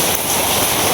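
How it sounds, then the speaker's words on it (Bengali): Steady rain pours down outdoors during an immersion festival day, a dense, even patter of drops on surfaces filling the whole second with no voices. "বৃষ্টি পড়তেছে"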